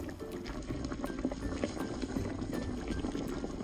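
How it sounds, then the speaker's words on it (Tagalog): Pork for kilawin simmers in vinegar in an outdoor pot, a steady close bubbling and rolling boil that holds evenly throughout with no talk. "papakuluan lang natin ang karne hanggang sa lumambot ito"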